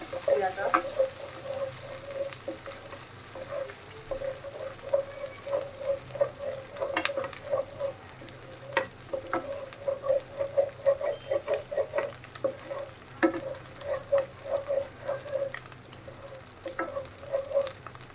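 Ginger and garlic fry in a pan with a lively, crackling sizzle that pops and spits steadily throughout, close and moderately loud, with no one talking.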